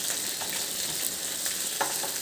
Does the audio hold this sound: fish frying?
yes